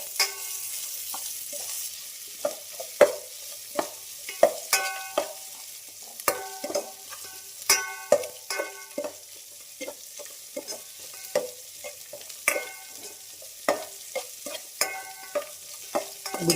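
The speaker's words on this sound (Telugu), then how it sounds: "పచ్చిమిరపకాయలు, ఆనియన్స్ బాగా వేగాయి." Onions and green chillies frying golden in a pan for kuska, with repeated clanking spatula strokes and scrapes against the metal over a quiet sizzle, close up and with no speech.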